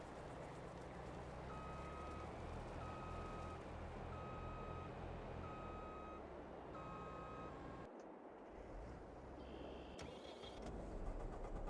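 A truck in Farming Simulator 22 reverses with a steady run of evenly spaced beeps over a continuous low engine drone, alone without talk, the beeping stopping partway as the engine keeps running.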